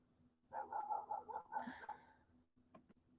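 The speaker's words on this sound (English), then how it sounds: "we can hear doggies barking in the background" A small dog barks in the background, a quick run of several high yappy barks followed by a couple of fainter yips, distant and moderately quiet.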